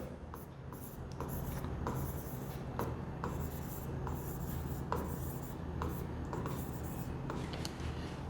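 Chalk or marker writing on a classroom board during a maths lesson, with steady scratchy strokes and regular tapping marks, heard close and faint under a teacher's talk.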